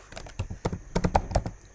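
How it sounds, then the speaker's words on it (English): Quick, irregular keystrokes clatter on a MacBook keyboard, close and fairly quiet, with no voice over them. "for this time around I'll type"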